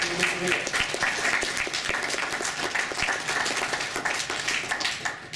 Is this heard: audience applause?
yes